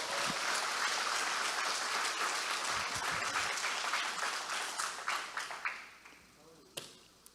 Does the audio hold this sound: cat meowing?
no